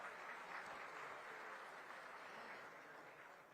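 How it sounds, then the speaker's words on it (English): Audience applause welcoming minister S. Jaishankar at a Pravasi Bharatiya Divas diaspora event, a steady dense wash of clapping from a large crowd that fades slightly toward the end. "with a thundering round of applause"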